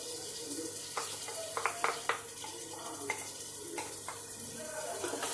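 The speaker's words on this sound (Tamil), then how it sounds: "இதை நல்லா மிக்ஸ் பண்ணி விட்டுக்கிறேன்." Ground masala being stirred into a mashed tomato mixture in a pan for chicken biryani, soft scraping and sticky clicks of a spoon at irregular moments over a faint sizzle, fairly quiet and close.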